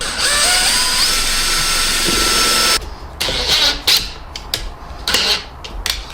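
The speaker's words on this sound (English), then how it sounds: "There's a pilot drill bit, so I'm going to punch a pilot drill bit in, just so that I hopefully don't crack the wood." A power drill boring a pilot hole into a scrap piece of wood, its steady whine running for a few seconds before breaking into short, uneven bursts as the bit bites and stops, close and loud.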